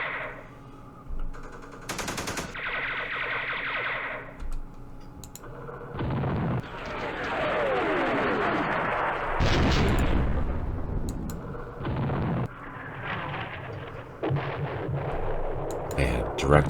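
Game sound effects from Campaign Series Vietnam: loud direct-fire gunfire bursts, machine-gun rattles and booming artillery explosions, arriving in separate salvos with someone talking between some of them.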